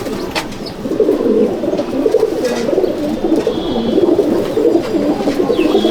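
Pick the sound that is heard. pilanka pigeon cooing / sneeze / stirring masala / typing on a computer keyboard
pilanka pigeon cooing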